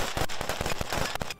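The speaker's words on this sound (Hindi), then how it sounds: "ज़ेलेंस्की के ये जवान जंगल में गोली चलाने का अभ्यास करते नजर आए।" Rapid firearm shots from Ukrainian civilian fighters training with weapons in a forest, a quick burst of about a dozen sharp cracks in fast succession, loud and close, with no talking.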